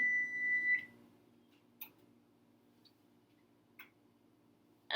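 A kitchen timer chirps briefly at the start, followed by faint sparse clicks and a sharp beep at the end, while Shrinky Dinks bake in an oven in a quiet room.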